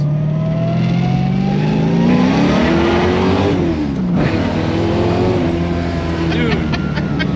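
A Datsun 240Z engine revving up through first gear, a loud close in-cabin drone rising in pitch, easing at the shift and climbing again, with people talking over it.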